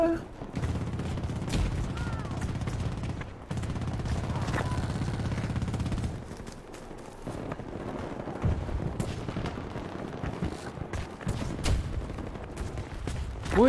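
Gunfire in the Battlefield 2042 beta, repeated bursts of automatic fire and booms in busy combat, with someone talking over the shooting.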